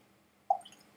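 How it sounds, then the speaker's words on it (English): A single drop of water falls into a glass of peated, sherried whisky blend, a short, close plop followed by a faint ringing trail against a quiet background. "I think it's going to need just a little bit of water"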